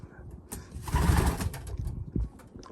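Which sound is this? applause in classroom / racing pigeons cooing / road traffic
racing pigeons cooing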